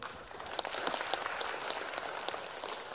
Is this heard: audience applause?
yes